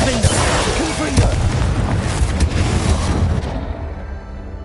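Confringo explosion spell in the video game Hogwarts Legacy, a loud booming blast with a crackling burst that fades over a few seconds, dense with game effects.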